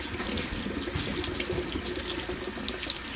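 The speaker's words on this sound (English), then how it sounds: "I'm going to rinse all of the salt and brown sugar off these things" Tap water runs steadily into a sink as salt- and brown-sugar-cured salmon is rinsed under it, a continuous close splashing hiss with small bursts and no voices.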